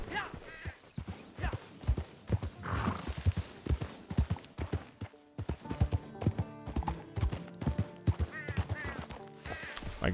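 A horse gallops in the Western game Red Dead Online with a fast, driving clip-clop of hooves throughout and a brief snort or whinny partway, close and loud.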